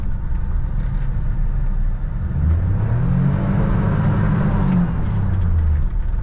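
A car drifting on an icy surface, its engine rumbling steadily and rising and falling in pitch as it slides, loud and close with no talk.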